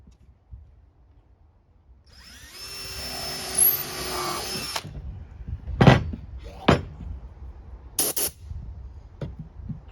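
Power drill driving a screw into a DIY workbench, a whirring run of a couple of seconds followed by several sharp knocks and clatters of handling wood, fairly close and moderately loud.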